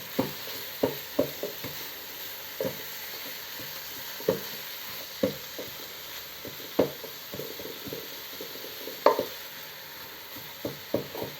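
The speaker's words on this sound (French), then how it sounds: "je suis en train d'écraser les viandes" Minced meat with onion, shallot and pancetta frying in a pan for a homemade bolognese, a soft sizzle under repeated sharp taps and scrapes of a utensil pressing and breaking up the meat.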